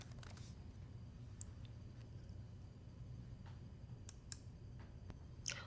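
Typing on a computer keyboard, sparse faint clicks and a few sharper keystrokes scattered over a quiet, hissy background.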